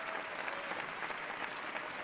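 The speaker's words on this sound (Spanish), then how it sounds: "también le damos un gran aplauso y felicitaciones" Audience applause for a winner at the 2021 Uruguay awards ceremony for best companies for young professionals: a brief, dense, even patter of many hands clapping together, with no voices over it.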